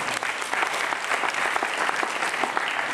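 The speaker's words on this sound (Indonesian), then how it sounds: "Kita beri tepuk tangan buat Tuhan." A church congregation at a Supernatural Academy training session breaks into a full, continuous round of applause offered to God, dense and steady from start to finish with no voices over it.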